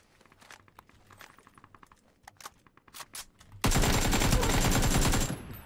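AK rifle gunfire in PUBG: scattered single shots and short bursts at first, then a sustained loud automatic burst lasting nearly two seconds, with footsteps faintly between.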